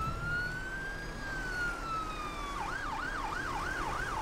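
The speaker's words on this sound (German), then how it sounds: "Woher kommt jetzt dieses Tatütata?" An emergency vehicle siren in the OMSI 2 bus simulator game holds a steady rising and falling tone, then switches to a fast wailing warble, loud and continuous over low road rumble.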